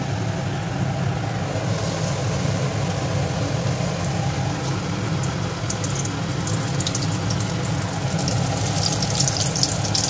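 A ball of spiced potato filling for vada pav frying in hot oil, giving a loud, continuous bubbling sizzle that holds steady throughout.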